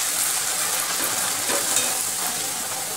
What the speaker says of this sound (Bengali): এদিকে তেল গরম হয়ে গেছে, তেলের মধ্যে লুচিটাকে ছেড়ে দিচ্ছি।